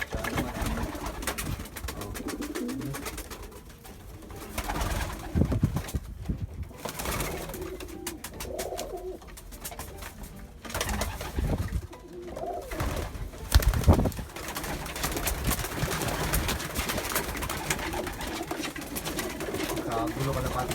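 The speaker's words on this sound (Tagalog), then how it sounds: "Kagulo kalapati natin." Pigeons coo in a backyard loft in Virginia Beach, soft low rolling calls repeating throughout amid fluttering and rustling, while people talk nearby.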